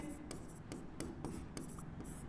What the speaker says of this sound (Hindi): और हमें अब यहाँ लिखना है